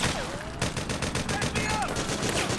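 Rapid automatic gunfire rattles in the war game Metal Gear Solid 4: Guns of the Patriots, a steady stream of loud, close shots amid the battle noise.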